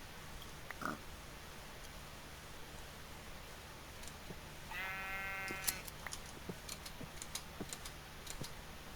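A Minecraft sheep gives one short, faint bleat in the middle of quiet game ambience, with scattered soft ticks and clicks before and after.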